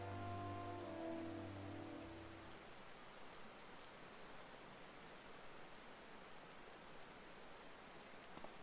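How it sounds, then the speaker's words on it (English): Rain falls in the video game Final Fantasy XIV as a faint, steady hiss. Soft tonal music plays over it at first and then drops away, leaving the rain alone and without voices. "It just sucks that we're having to do this in the rain."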